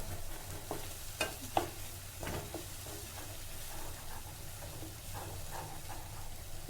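Onion paste frying in oil for a mutton boti curry, a soft continuous sizzle with scattered scraping stirs and small clicks of a spoon against the pan, close and fairly quiet, with no talk.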